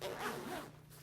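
The zipper of a North Face Borealis backpack is pulled in one short, quiet, close-up rasping stroke lasting about a second.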